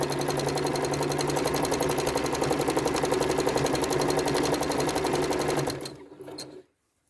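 A sewing machine runs fast and steady while free-motion quilting repeating curves on a fabric practice piece, giving a close, continuous rapid whir that cuts off near the end, with no talk.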